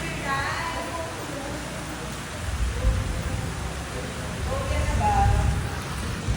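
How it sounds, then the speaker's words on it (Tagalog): Steady heavy rain hisses as a broadband wash, with people talking over it throughout. "sobrang lakas ng ulan eh"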